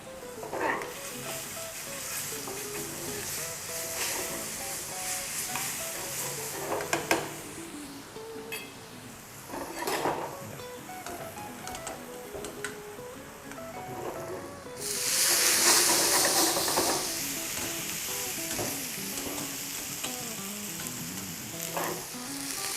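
Garlic sizzles in hot oil in a pan while being stirred, with steady frying crackle, scraping stir strokes and a louder burst of sizzling partway through, close up and without talk.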